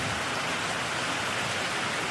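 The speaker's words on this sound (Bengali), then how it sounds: "এটা প্রচণ্ড জোরে ঝড় বৃষ্টি হচ্ছে।" Heavy storm rain pours down outdoors with coconut palms blowing in the wind, a dense, even hiss of downpour that stays steady throughout.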